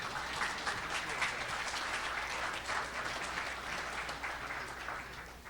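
Steady applause from an audience at a student pitch competition, many hands clapping at a moderate, even level for several seconds and tapering slightly at the close.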